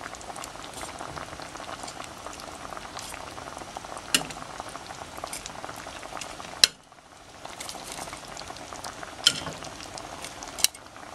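Shrimp drop into a pot of squash and string beans simmering in coconut milk, a steady bubbling boil with soft stirring clinks and a few sharper knocks of the utensil against the pot.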